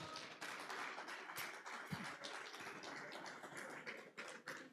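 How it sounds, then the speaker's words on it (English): Faint, scattered clapping from an audience at a public lecture, light taps spread unevenly across a few seconds with no voices. "Let's give the coppers a round of applause."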